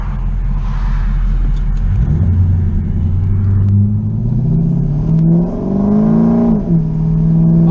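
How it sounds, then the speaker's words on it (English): A truck with an HD2 shift kit and servo accelerates at half throttle, the engine rumbling and climbing steadily in pitch before a crisp 1-2 upshift drops the revs; loud, close and without talk. "so I'm gonna go about half throttle"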